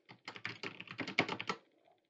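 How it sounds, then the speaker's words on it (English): Rapid keystrokes on a computer keyboard, a quick burst of roughly a dozen clicks over a second and a half, close and clear with no voices. "let's go and type in your grade is a B"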